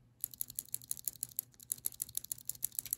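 Rapid, regular clicking from a lubed Cherry MX Blue keyboard switch, sharp and close, each press a bright click with a slightly lower, softer tone, repeated steadily for a few seconds without speech.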